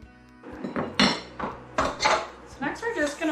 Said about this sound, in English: Next, we're going to add in 1/2 cup of Crisco shortening. And we want it to mix until it's crumbly.